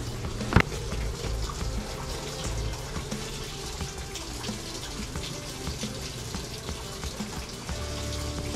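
Water runs steadily from a tap, a continuous hissing stream with a brief sharp knock near the start, heard alone at moderate level.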